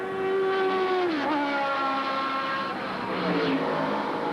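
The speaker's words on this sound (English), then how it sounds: "that raucous, almost painful sound of the Cosworth V8 revving away" A Cosworth V8 race car engine revs high and loud at Amaroo Park Raceway in a 1983 race, its pitch sweeping down as it passes by, then a sustained roar fading slightly into the distance.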